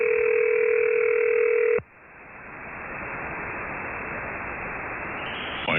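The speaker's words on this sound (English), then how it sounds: "here's what a phone patch sounds like" A steady telephone dial tone carried over VoIP through a phone patch on an Apache Labs ANAN radio holds loud and even for a couple of seconds, then cuts off into a hissing static-like line noise that continues to the end.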